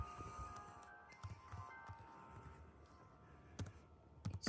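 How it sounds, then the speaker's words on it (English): Computer mouse middle-clicks and keyboard typing at a Plan 9 desk, heard as faint, sparse clicks and taps scattered over a quiet room, with a couple of sharper clicks near the end. "I'm executing the command by clicking middle click."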